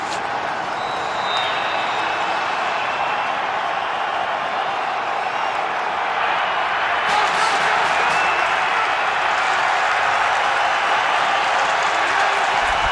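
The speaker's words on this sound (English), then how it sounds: "The crowd is up and into it." Crowd noise fills an NFL football stadium during a Dallas Cowboys versus Washington game, a broad sustained roar that swells louder in the second half, with commentary voices faintly beneath.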